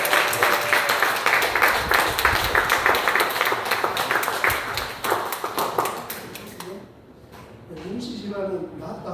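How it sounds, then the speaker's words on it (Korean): A church congregation applauds for about six seconds, crisp, close claps in a brisk, uneven rhythm that thin out and stop, after which a voice begins talking. "우리 박수로 감사하고"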